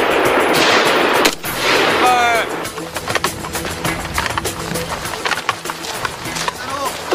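Gunfire from soldiers at military shooting practice in the Korean army: a rapid run of sharp, cracking shots and bursts, with a voice heard near the start.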